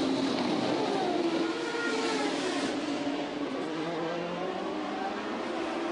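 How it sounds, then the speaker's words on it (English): A 2003 Champ Car race car at Brands Hatch revs up and pulls away down pit lane, its engine a loud, steady, close drone with a slowly shifting pitch. "Last drops of fuel, revs come up"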